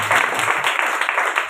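Applause from a church congregation fills the room: dense, loud clapping from many people that continues steadily throughout.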